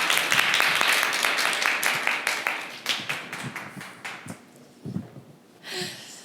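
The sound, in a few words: audience applause for a professor after a talk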